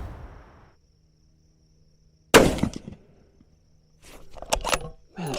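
A bolt-action rifle fires a single sharp, loud report at an outdoor shooting range, with a brief echoing tail, followed by faint rustling and clinking handling sounds; no speech is heard.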